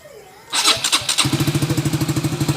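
A Rusi RS 150fi motorcycle, just refitted with its stock timing chain, cranks with a quick burst of starter clatter, then catches into a close, even, pulsing idle. Faint background noise comes before the start.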